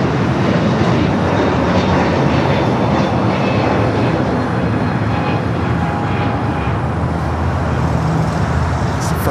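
Jet airliners taxiing and taking off at LAX make a loud, continuous, broadband engine roar that stays steady and close for several seconds.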